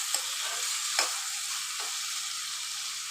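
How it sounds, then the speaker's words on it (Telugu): Tomatoes, about half a kilo, simmer in oil over a medium flame for tomato curry, giving a steady soft sizzle broken by a few light stirring scrapes. "ఇప్పుడు టమాటాలు అయితే ఇట్లా మంచిగా ఉడుకుతున్నాయి కదా"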